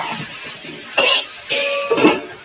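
Three or four short, hoarse coughs in quick succession, close by in a home kitchen, with no talking over them.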